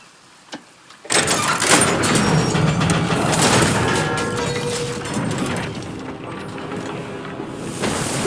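A forge mechanism is cranked in the God of War Ragnarok video game: after a faint quiet start, a loud mechanical grinding and rumbling begins abruptly and continues with clanks and ratcheting, gradually easing off.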